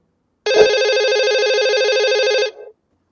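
A telephone rings in a Python KBC quiz game: one steady electronic trilling ring lasting about two seconds, loud and alone, then cutting off into silence.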